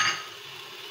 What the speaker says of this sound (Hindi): अब मैं इन्हें 5 मिनट तक अच्छा सा भून लूँगी